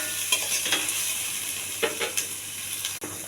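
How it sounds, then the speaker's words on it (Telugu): Chopped onion and garlic sizzle steadily in a hot pan, with a constant bright frying hiss broken by occasional scraping stirs of a spatula, close and clear with no talking. "కొంచెం ఉల్లిపాయ, ఇది కూడా కొంచెం బాగా దోరగా వేగాలి, మాడకుండా ఎగచ్చాలండి."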